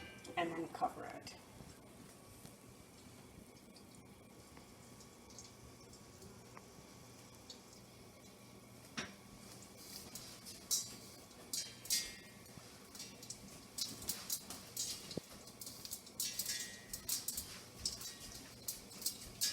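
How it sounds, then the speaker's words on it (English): Mustard seeds popping in hot oil in a covered pan give scattered faint crackles and pops that grow busier toward the end, heard under a voice talking. "So the mustard seeds are popping up."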